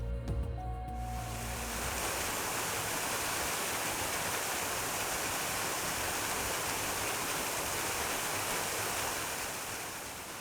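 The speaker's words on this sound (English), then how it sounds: "Skyrim uses its water to provide a sense of scale for an area, something grand and interesting to look at, like a waterfall." A waterfall in the video game Skyrim roars as a steady, loud, dense rush of falling water that holds evenly throughout, with no voices.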